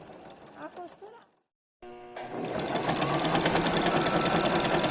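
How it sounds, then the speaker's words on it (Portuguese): A Lanmax overlock machine with its presser foot down stitches and trims fabric, a loud, rapid whirring chatter that starts after a short silence. Quiet talking is heard beforehand. "Ele vai costurando e vai cortando, costurando e cortando."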